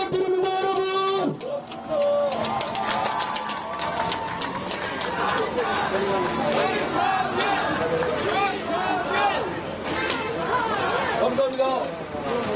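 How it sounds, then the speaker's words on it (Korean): Crowd at a Democratic Party political rally in Jeju claps and cheers for candidates, a dense, lively roar of voices and applause with shouts rising over it throughout. "위성관 여러분께 다시 한번 힘찬 격려의 박수를 부탁드립니다"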